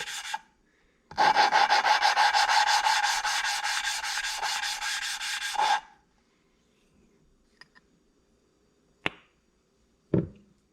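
An engine valve is lapped with lapping compound into a 2.4 Ecotec cylinder head, producing a close, continuous gritty rubbing for several seconds, then quiet with a few sharp taps and scrapes.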